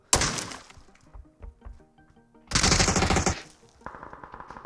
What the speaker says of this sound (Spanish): Ahí oigo disparos.